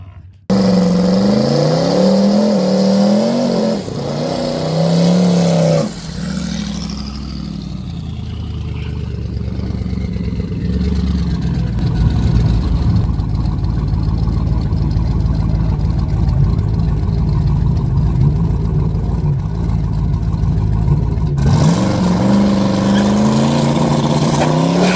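A twin-turbo G8 car makes a drag racing pass, its engine loud and close, climbing in sustained revving acceleration with a brief shift dip near the start, then holding a steady roar for the rest of the run.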